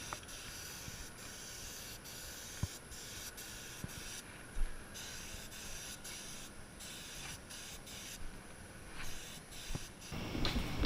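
A steady, fairly quiet hiss of a spray gun applying high-temperature ceramic coating to headers, continuous with a few faint knocks and clicks around it.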